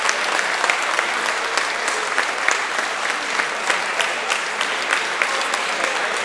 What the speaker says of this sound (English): Chat, please clap.